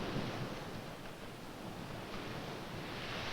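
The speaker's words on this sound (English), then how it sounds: "A wave breaks when it travels from deep water to shallow water." Waves breaking on a sandy beach at low tide, a broad steady wash of surf noise with some wind, fairly close and even in loudness, with no voices.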